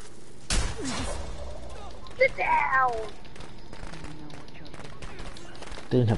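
A single sharp gunshot rings out in a Friday the 13th game match, loud and close, followed by scattered quieter impacts while people talk throughout.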